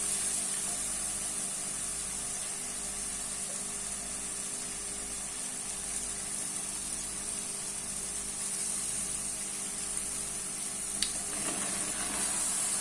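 Chopped ridge gourd (bel tori) dropped into masala frying with turmeric in a pan, giving a soft, steady sizzle and hiss at low volume, with a brief clatter near the end.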